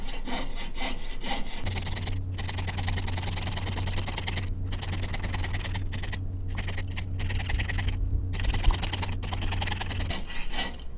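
A fine saw blade cuts through a signet ring in quick, rhythmic strokes, rasping and scratching at close range with short pauses between bursts of cutting.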